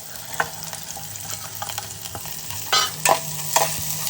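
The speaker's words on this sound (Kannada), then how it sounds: "ಆಯಿಲ್ ಒಳಗಡೆ ಸ್ವಲ್ಪ ಆಯಿಲ್ ಜೊತೆ ಸ್ವಲ್ಪ ಫ್ರೈ ಮಾಡ್ಕೋಬೇಕು" Sprouted beans fry in a little oil while a spoon stirs and scrapes the pan, giving a steady close sizzle broken by sharper scraping strokes.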